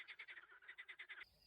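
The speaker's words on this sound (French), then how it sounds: "Et ces grenouilles, mais bon sang" Frogs croaking in a countryside landscape near a road, a rapid series of about a dozen evenly spaced raspy croaks that stop abruptly, faint and unaccompanied by speech.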